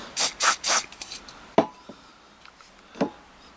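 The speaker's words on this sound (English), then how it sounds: "gonna do a little spray in there" Three quick hissing bursts of lubricant sprayed into an Abu 6500 C3 fishing reel, followed by small clicks and scraping handling noises, close up with no talking.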